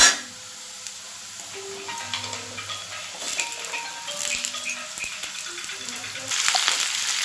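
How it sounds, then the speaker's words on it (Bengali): Flat beans tipped into potatoes already frying in a pan, giving a steady sizzle with scattered stirring scrapes that swell near the end, heard up close with no talking. "দেখুন আলুটা একটু ভাজা ভাজা হয়ে এসেছে এবার আমি এর মধ্যে শিমটা দিয়ে দিচ্ছি"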